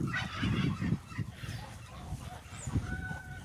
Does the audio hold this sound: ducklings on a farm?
yes